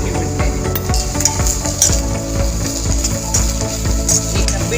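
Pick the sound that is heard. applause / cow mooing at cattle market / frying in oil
frying in oil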